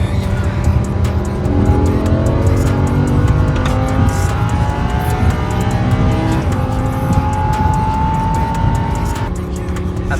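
A Lamborghini Huracan engine, loud and steady, revving near 4,500 RPM with a continuous roar and rapid crackling exhaust pops as the throttle is lifted.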